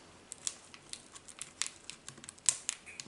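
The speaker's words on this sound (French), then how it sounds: "si j'arrive à enlever l'espèce de plastique qu'il y a dessus" Soft crinkling and crackling of thin plastic film being peeled off a ribbon, with scattered sharp ticks and rustles, close and fairly quiet.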